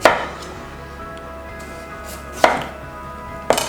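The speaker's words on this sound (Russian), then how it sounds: "режем ее на слайсы толщиной где-то полсантиметра" A knife cuts through peeled potatoes on a board with three sharp, distinct chops spaced over a few seconds, and a quiet hum lies underneath.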